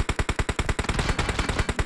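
Automatic gunfire in PUBG Mobile, a rapid burst of roughly twenty evenly spaced shots in under two seconds, loud and close with no talking over it.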